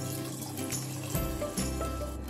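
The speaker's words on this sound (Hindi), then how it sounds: "अब इसके अंदर मैं आलू गलने के लिए 1/2 कप पानी डालूंगी" Half a cup of water poured into a pan of dhaba-style aloo keema, minced meat with potato cubes, giving a steady, close liquid splash and trickle with no talking.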